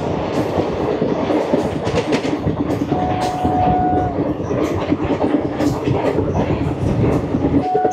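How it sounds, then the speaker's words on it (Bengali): Paharia Express passenger train running on rails after leaving Barsoi Junction, heard from on board as a loud continuous rumble with rapid clickety-clack of wheels over rail joints and a brief tonal whine, steady throughout. "আমাদের ট্রেন ছেড়ে দিল বারসই জংশন"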